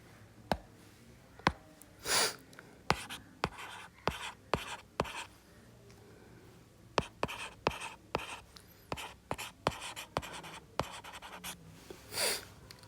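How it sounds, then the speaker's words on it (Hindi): Pen on paper as a sum is rewritten by hand, with sharp scratchy strokes and taps in an irregular rhythm, close and fairly quiet, with occasional breaths between. "दोबारा लिख लेते हैं ना।"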